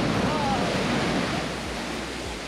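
Strong ocean surf pounding the shore in Hawaii, a loud wash of broadband roar that swells and slowly eases, with wind buffeting the microphone.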